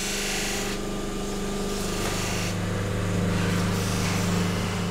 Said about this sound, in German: Jetzt muss sie nämlich wieder poliert werden.